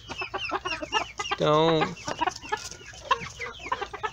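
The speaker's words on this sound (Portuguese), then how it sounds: "Então eles estão só os dois galos aqui." Two ornamental roosters in a pen cluck and chatter repeatedly at close range, with one drawn-out crowing call near the middle, while someone speaks over them.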